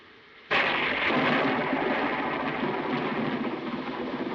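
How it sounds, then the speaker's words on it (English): Thunder in a thunderstorm cracks open suddenly and loudly, then rolls on as a sustained broadband rumble with a rain-like wash beneath it, with no voices present. "I love thunderstorms, don't you?"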